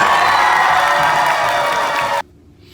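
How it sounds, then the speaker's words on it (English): A cruise ship audience on a Carnival cruise cheers, whoops and claps loudly for a little girl, a bright, dense crowd roar that cuts off abruptly near the end. "Give this little girl a round of applause."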